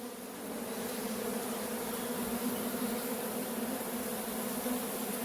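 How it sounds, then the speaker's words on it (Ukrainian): A dense, steady buzz of many honeybees fills the air inside a hive, continuous and close, with a deeper droning hum of drones beneath. "Дуже багато трутня на даний час."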